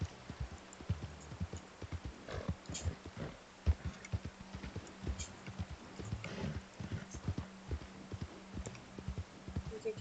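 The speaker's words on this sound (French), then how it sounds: "Il y a quelqu'un à cheval, on va le saluer." Horse hooves clip-clop in the video game Red Dead Redemption 2, a steady trotting rhythm of close, soft thuds running throughout, with brief faint voices mixed in.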